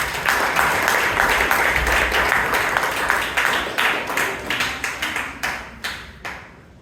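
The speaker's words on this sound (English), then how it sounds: "Let's give the speaker a big round of applause" Audience applause at a Toastmasters club meeting in Bangalore, steady dense clapping from a room of people that thins into a few separate claps near the end.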